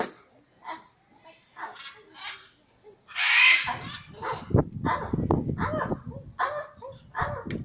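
A pet bird repeatedly squawks an imitation of people saying "ow," in short voice-like calls, with a louder harsh burst partway through and people talking underneath.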